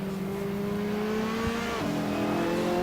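Ferrari 458 GTLM race car in Assetto Corsa revving hard, a loud steady engine whine climbing in pitch, then a quick gear change drop around the middle before pulling up again, close and continuous with no talk.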